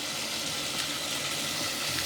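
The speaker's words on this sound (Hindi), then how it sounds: "अब हम इसमें हस्बे ज़रूरत पानी शामिल करेंगे।" Water pours steadily into a pot of browned chicken and tinda, a continuous close hiss and splash holding the same level throughout with no voices.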